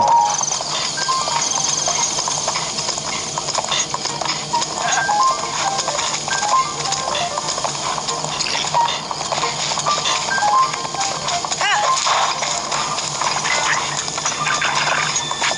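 A horse gallops in The Legend of Zelda: Breath of the Wild, with steady rapid hoofbeats running throughout over game ambience.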